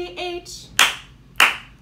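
Children clap along to a kids' educational song about the sloth: two sharp, distinct claps spaced about half a second apart, following a few short sung or spoken notes.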